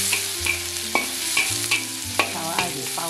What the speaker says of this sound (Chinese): 炒蒜泥